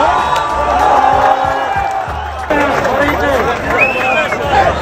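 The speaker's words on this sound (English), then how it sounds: "There's a huge crowd of people here" A large street crowd in Baghdad cheers during an Iraq football match, a dense roar of shouts, whoops and whistles that rises and surges throughout, close and loud.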